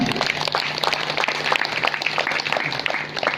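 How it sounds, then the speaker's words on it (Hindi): An audience at a Devi Bhagwat Katha gathering applauds to welcome a guest, a continuous, fairly close wash of many hands clapping throughout. "तालियों से स्वागत"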